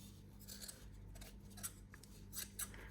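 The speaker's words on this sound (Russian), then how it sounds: "ножницами не в бок, а именно вот так по верхней части все подрезаю" Scissors snip through a handmade Christmas tree ornament, trimming along its top edge in a few close, crisp cuts spaced irregularly over a steady low background hum.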